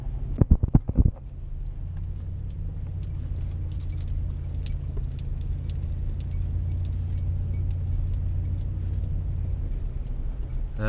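A pickup truck in 4-wheel drive labours uphill with a steady low engine rumble and grinding tyre noise throughout, close by, after a few knocking thumps at the start.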